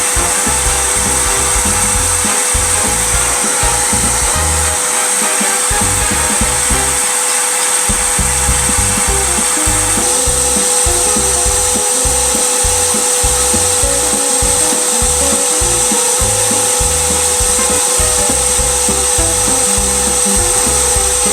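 A seed separator machine cleans zinnia seeds with a continuous loud whirring hum and a steady high whine, a rattling churn of seed material running underneath, with no talk.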